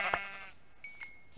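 Sheep in Minecraft bleat in a short, fairly faint blocky game sound, with one quick bleat at the start followed by a higher tonal tone and a couple of soft taps.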